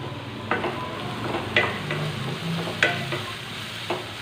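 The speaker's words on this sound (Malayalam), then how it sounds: "ഈ ഉള്ളിയും ഇത് നന്നായിട്ടൊന്ന് വഴണ്ട് വരട്ടെ" Onion sautés in a pan for a macaroni pasta dish: a steady, close sizzle with four distinct scraping stirs spaced about a second apart, and nobody speaking.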